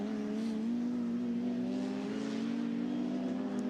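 A Ginetta GT race car at Snetterton holds a steady, buzzing engine note under power, the pitch creeping slightly upward over a few seconds, with no talking over it.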